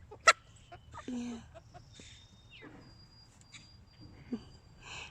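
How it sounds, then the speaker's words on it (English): Hens scratch about a backyard garden, giving a few soft, scattered clucks and short calls at close range over a low background hum, with a sharp tap near the start and no talking. "Chicken chat, eh?"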